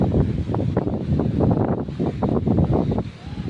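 Strong wind buffets the microphone at a seaside beach with a continuous, rough low rumble that surges and eases throughout.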